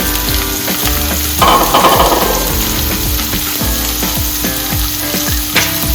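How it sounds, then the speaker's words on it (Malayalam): Onions, green chili and curry leaves sautéing in a pan for an egg varuval, loud hissing sizzle with repeated scraping stirs of a spatula in a quick rhythm, close and without talk. "ഇത് നമുക്ക് ഇതിനകത്ത് ഇട്ട് കൊടുത്ത് നന്നായിട്ടൊന്ന് വഴറ്റിയെടുക്കാം"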